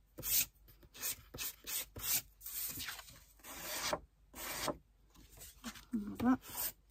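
Filing the corners of a paper card for a Frozen-themed scrapbooking envelope: repeated short raspy rubbing strokes in bursts with brief pauses, fairly close, a voice heard faintly near the end.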